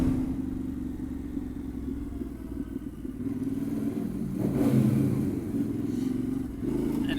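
A Yamaha Tenere 700 motorcycle runs its stock muffler with the baffle removed, giving a deep, steady exhaust rumble that swells briefly midway on a gravel road ride.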